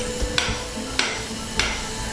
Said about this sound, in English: So we're going to put it in position and then hammer it into place.